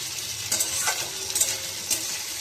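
Red lentils sizzle and crackle in a hot pan while a spoon stirs and scrapes a few times, close and fairly loud.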